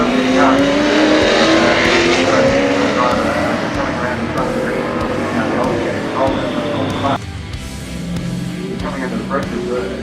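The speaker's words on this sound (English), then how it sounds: "coming under the pressure of the next battle for the series was the Green Dodge Challenger of Dwayne Ingley and Michael Paul" Muscle race cars, including a green Dodge Challenger, at a Mainland Muscle round: loud, dense engine roar with cars screaming past and revving hard, continuous and close, with a commentator talking over it.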